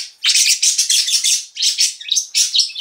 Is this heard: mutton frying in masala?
no